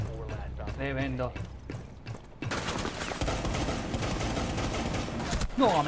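Gunfire in the tactical shooter Rainbow Six Siege comes as rapid automatic bursts, dense and loud, following a stretch of excited talk, with a final sharp burst near the end.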